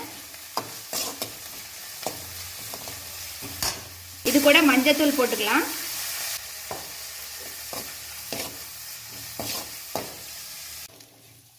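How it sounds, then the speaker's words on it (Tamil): Sizzling and stirring in a pan as drumstick flowers sauté in oil, with a burst of crackle partway through and a person talking over the cooking. "இது கொஞ்சம் எண்ணெயிலேயே நல்லா வெந்து வரட்டும் அது வரல நல்லா வதக்கி விடுங்க"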